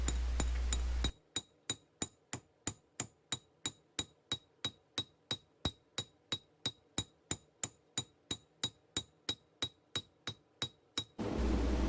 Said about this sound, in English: I'm hammering all those marks down and in, just sort of planishing it, making it smooth and flat